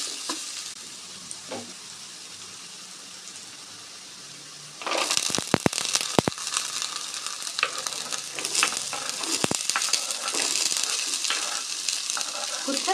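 Quiet at first, then a loud, steady sizzle of onions sautéing in a pan, with occasional stirring scrapes and crackles.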